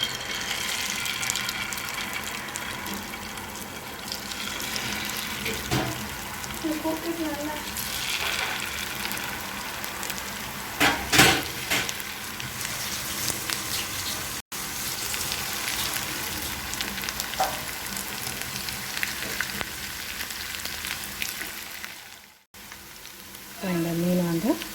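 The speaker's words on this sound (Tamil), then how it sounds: "நம்ம மீனை ஃப்ரை பண்ணிடலாம்." Anchovies frying in hot oil in a pan, a dense, continuous crackling sizzle that stays close and loud throughout, with occasional brief louder spatters and faint background voice.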